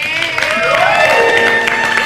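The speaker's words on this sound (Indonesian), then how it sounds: "tepuk tangan dong buat Regina" Studio audience on an Indonesian talk show applauds for a guest named Regina, a steady, loud wash of clapping with some cheering and music underneath, lasting the whole moment.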